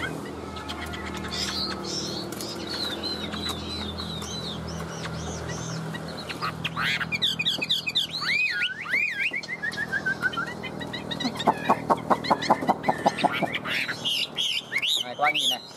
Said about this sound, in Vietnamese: để em đổi nhạc đi cho nó hót, nó đấu lại nha các bác nha